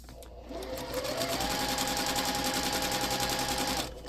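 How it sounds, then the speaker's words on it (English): Sewing machine stitching along a line of a foundation paper pieced simple star quilt block, a steady close whirring run of about three seconds with a soft start and stop, no talking. "so we're going to stitch on line 4"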